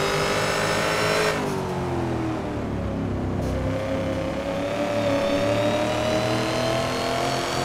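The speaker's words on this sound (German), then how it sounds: "wie wenig man einfach im vierten Gang Gas geben muss, damit er so die ganze Kurve lang quer kommt" Sustained engine revving from a 650 hp Ford Mustang Boss 302 drifting in fourth gear in Assetto Corsa, loud and continuous, with a shift and pitch dip early on before the engine note climbs steadily again.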